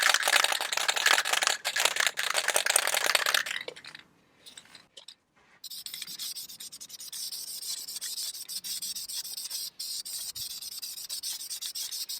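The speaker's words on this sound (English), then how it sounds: "Going to shake the can again, make sure the paint's mixed" A spray paint can used to paint airsoft guns is shaken hard, the mixing ball rattling rapidly and loudly for a few seconds, then after a brief pause a softer, steady rattle continues.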